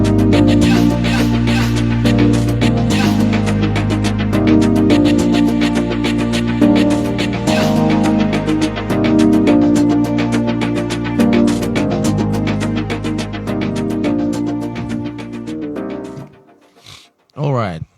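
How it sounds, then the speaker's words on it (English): A gospel-style beat drop plays loud and full, with chopped vocal samples stuttering over keys, a synth arpeggio and steady driving drums, running continuously before dropping out near the end. "So I got this vocal and then did some chops on it"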